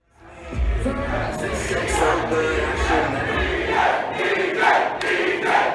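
A concert crowd chants the performer's name in a loud, sustained roar of massed voices that swells and repeats for several seconds.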